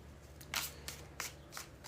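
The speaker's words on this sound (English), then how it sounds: "We are going to continue shuffling until about 6 more minutes." Tarot cards are shuffled by hand in a quiet room, giving five or six crisp riffling bursts spaced roughly every third of a second, close and fairly soft, with no talking.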